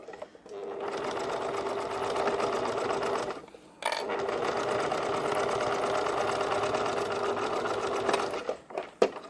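A sewing machine stitching a fabric zipper pouch runs in a steady, close whirring burst, stops briefly, then runs again for several seconds before winding down.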